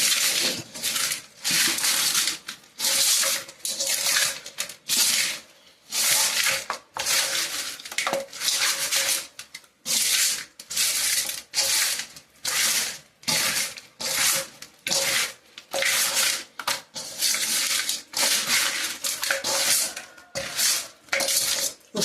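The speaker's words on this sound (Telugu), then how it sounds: "ఉప్పు కారం పసుపు ఈ మూడు వేసి ఇలా కలిపేసి" Bare hands work snakehead fish with salt, chili and turmeric in a metal bowl in a village kitchen, producing repeated wet squelching and scraping strokes in a steady, uneven rhythm. The sound stays close and there is no talk over it.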